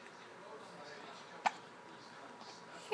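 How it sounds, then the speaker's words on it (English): A person's hiccups, two short sharp catches about a second and a half apart, close and fairly soft against a quiet room. "Hiccups."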